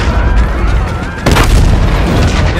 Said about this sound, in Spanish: Los cañones SATI siguen disparándole a nuestra flota.